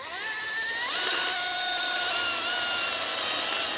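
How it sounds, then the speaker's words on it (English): A chainsaw cuts through a rhino horn during a dehorning, its high, steady motor whine rising in pitch about a second in and then holding loud and continuous, close to the listener. "Mike, the head vet, is behind the chainsaw."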